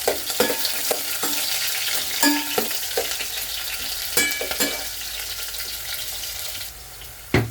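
Sangkap for stuffed milkfish (bangus) hit hot oil in a pan, giving a steady loud sizzle with stirring clatter and scraping throughout, a few sharp clinks of utensils, and the frying easing off near the end.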